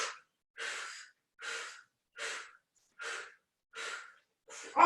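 Steady forceful exhalations during a Pilates abdominal series, six or seven breathy puffs at an even pace with short silent gaps, close and clear with no talk.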